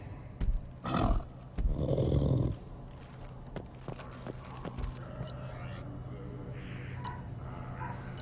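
Varren, the dog-like alien creatures of Mass Effect 2, give a few loud roaring growls in quick succession near the start, then fall away into quieter game ambience with faint scattered sounds.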